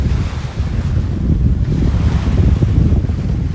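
Ocean waves wash onto a beach on the island of St. Martin at sunset, a loud, continuous surf rumble mixed with heavy wind buffeting the microphone.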